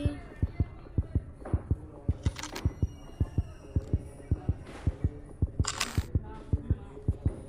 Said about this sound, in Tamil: ஹார்ட் பீட் சவுண்டு வருது ஃப்ரெண்ட்ஸ்